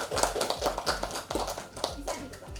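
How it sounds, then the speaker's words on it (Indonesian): Scattered applause from a classroom of students, a series of distinct hand claps in an uneven rhythm, close and moderately loud, with some voices murmuring underneath. "Beri tepuk tangan yang meriah."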